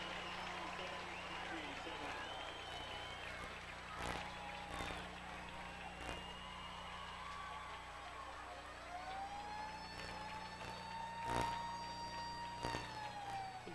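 A siren rises and holds a steady tone in the background, faint and distant under a radio broadcast of a high school football game, with voices talking over it.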